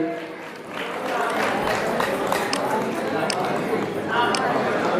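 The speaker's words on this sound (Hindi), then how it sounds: "कबड्डी बॉयज स्कूल कर्माश्रम विद्यापीठ, जोरदार तालियों से स्वागत करेंगे।" Sustained crowd clapping welcomes a boys' school kabaddi team at the Basant Panchami fair in Kanvashram, Uttarakhand, 2023. It is a dense, steady wash of many hands with a noisy open-air backdrop.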